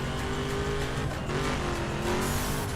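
Car engine revving steadily with tire squeal in the racing video game The Crew, a continuous loud drone of motor and road noise through a getaway chase, no voices.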